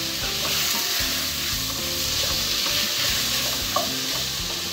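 Loud, steady sizzling and crackling of onion sautéing in a hot pan for caldo verde, with occasional stirring scrapes, close up and continuous.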